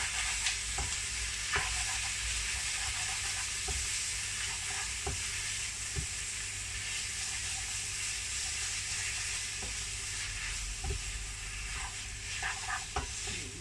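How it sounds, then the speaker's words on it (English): Chicken pad kee mao sizzles in a hot pan while sugar is stirred in, with a steady frying hiss broken by scattered scraping clacks of a utensil against the pan, close and loud, no talking. "A little bit of sugar. Stir it in together."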